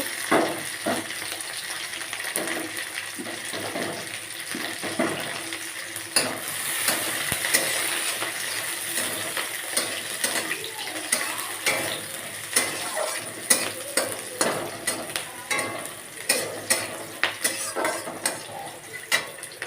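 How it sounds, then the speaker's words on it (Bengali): Tomatoes and green chillies fry in a pan, a steady soft sizzle broken by repeated scraping and stirring clicks that grow sharper and more rhythmic toward the end, close by with no talk. "এবার দিয়ে দেব টমেটো আর লঙ্কা এগুলো ভালোভাবে ভেজে নেব"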